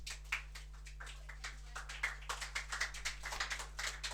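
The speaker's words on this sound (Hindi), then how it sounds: "मारो ताली" Students in a classroom clap together for a classmate, a series of fairly faint, uneven handclaps over steady electrical hum.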